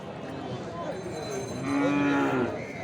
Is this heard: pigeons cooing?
no